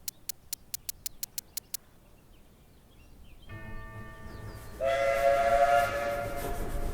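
A steam train whistle sounds a long, clear tone in the point-and-click adventure game Rosewater, following a run of rapid clicks, then rumbling train noise.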